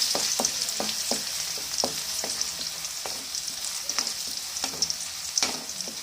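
Crushed garlic frying in hot oil, a steady bright sizzle broken by repeated scraping knocks of a spoon stirring the pan at an uneven rhythm.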